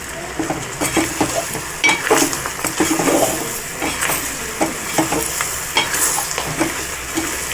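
Green chillies are stirred with gram flour in a frying pan: a low sizzle under repeated loud scrapes and clinks of a spoon against the metal in an uneven rhythm, close up and with no voices.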